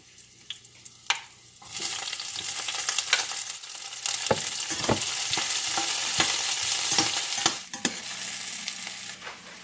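Onion sizzles steadily in a hot pan for chicken and pork afritada, a broadband frying hiss with scattered stirring clicks and scrapes; the hiss swells after a quiet start and runs on close and moderately loud, with no talking.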